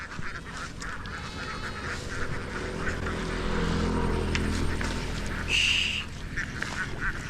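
A flock of domestic ducks quacks continuously while being herded outdoors. The calls overlap in a dense, close chatter over a low rumble, with a louder honk near the end.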